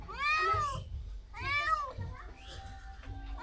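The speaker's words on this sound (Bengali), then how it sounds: "আয়াত বিড়াল কোথায় গেছে দেখছো" A cat meows twice, loud and close, with a short pause between the calls and faint background noise afterward.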